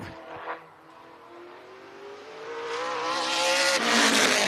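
An all-black number 7 race car accelerates during qualifying for the Salute the Troops 100 at a speedway, its engine note climbing steadily in pitch and growing louder as it nears, with a sharp tire-like squeal at the end.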